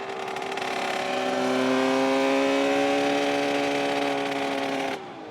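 A Suzuki motorcycle on track at Cadwell Park holds a loud, steady engine note that climbs gradually in pitch under wind roar, then cuts off abruptly near the end.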